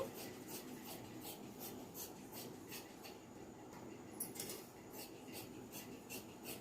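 Scissors cutting blouse fabric, a faint repeated rhythmic snipping and rasping close by, evenly spaced over a quiet background.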